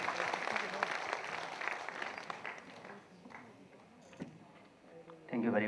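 Audience applause at a medical seminar, a dense, steady patter of clapping that fades gradually toward the end before a voice begins speaking.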